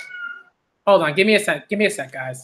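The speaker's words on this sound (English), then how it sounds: "If you hear meowing, it's just one of my cats being ridiculous." A house cat meows in a short, thin cry near the start, followed by a person talking close by.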